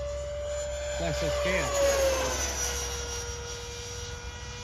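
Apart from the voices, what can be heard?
jet aircraft engine during a low pass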